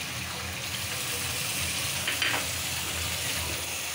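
A splash of gravy goes into a pan of frying hilsa fish, bringing a loud, continuous sizzle and bubbling up close, with a brief sharper spurt partway through.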